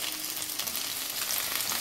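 Bear paws browning in hot fat in a frying pan, a steady close sizzle and spatter running throughout with no voices.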